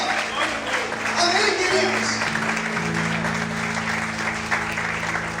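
A church congregation applauds in a continuous wash of clapping while a preacher speaks over it and sustained musical tones play underneath.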